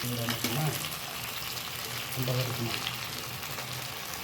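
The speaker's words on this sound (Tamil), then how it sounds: "இந்த எண்ணெய் கடுகுலாம் நல்லா மேலே வர மாதிரி கொஞ்சம் நேரம் கலரி கொடுங்க" Mustard seeds being stirred in hot oil for citron pickle, a faint continuous sizzle and crackle with occasional soft scraping of the pan, heard without speech.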